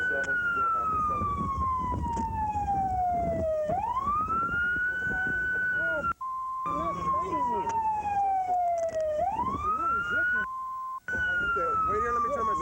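A police patrol car siren wails loudly up close, rising and falling in long sweeping cycles, cut by two brief dropouts, with a voice speaking over it.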